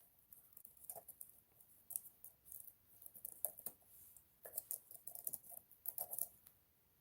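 Typing on a laptop keyboard, a steady patter of quick light key clicks coming in irregular bursts with short pauses, close and fairly quiet, with no voice over it.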